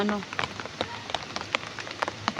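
Heavy rain falling on surfaces, with scattered drops spattering in quick irregular taps over a faint steady patter, fairly quiet overall.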